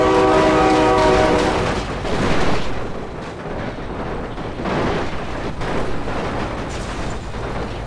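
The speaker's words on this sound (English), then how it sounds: "Oh my God, train!" A train thunders past in BeamNG Drive, its horn blaring loudly at the start over a heavy, roaring rumble of rail cars that carries on to the end.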